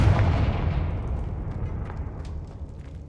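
A Confringo blasting spell explodes in the Hogwarts Legacy video game, a single loud booming burst up front that rumbles and decays over a few seconds.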